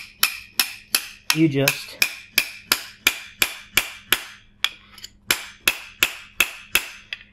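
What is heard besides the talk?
hammering a chisel into copper tubing for swaging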